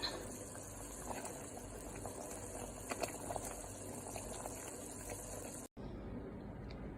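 Jar lids simmer in a pot of water on a home stovetop, a steady low bubbling and rattling hiss that runs continuously before cutting out abruptly near the end.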